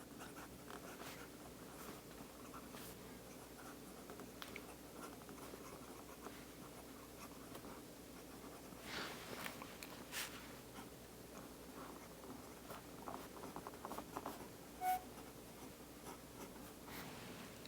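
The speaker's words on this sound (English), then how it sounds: "let's go ahead and write something with this pen and show you what that's like" A Diplomat Aero fountain pen writing in Monteverde Scotch Brown ink on paper: faint, close nib scratching and soft strokes in irregular bursts, continuing quietly for many seconds with no talk.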